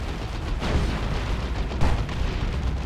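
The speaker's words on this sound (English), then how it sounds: "Big boom shot from the looted tank." An Ork looted tank fires its boom gun in a Warhammer 40,000: Dawn of War 2 3v3 match. One heavy blast stands out from steady rumbling battle noise and scattered explosions.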